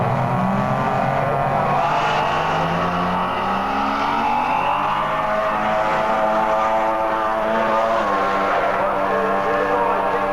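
Cars at an Eastern Creek street meet, including an older extended Ford: a loud, steady engine drone with shifting revving tones that never lets up, close and dominant throughout.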